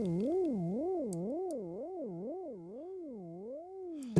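A sustained synth tone from Native Instruments Komplete 14's Straylight, its pitch modulated by an LFO, wobbles up and down at a steady, fairly quick rate, about two cycles per second, heard alone and clear.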